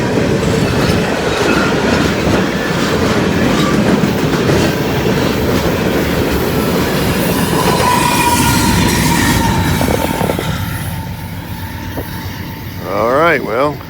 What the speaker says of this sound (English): I have a DPU on the back. Yeah, there he is. Comes the rumble.